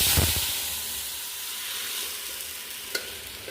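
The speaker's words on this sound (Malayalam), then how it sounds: "ഇനി നമുക്ക് ആ മസാല ഇതാ വേവിച്ച് വെച്ച് നമുക്ക് അതിലോട്ട് ചേർത്ത് കൊടുക്കാം" Cooked masala hits spluttering mustard seeds in a hot pan, setting off a loud, even sizzle with stirring and a single sharp crackle near the end.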